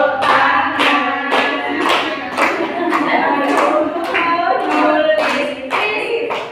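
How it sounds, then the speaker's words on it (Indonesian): Rhythmic hand clapping in a classroom microteaching session, steady repeated claps running throughout with children's voices or singing mixed in. "tepuk tangan."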